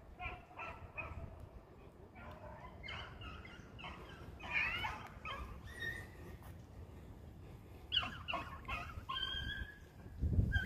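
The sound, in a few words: rabbit hunting dogs in the chase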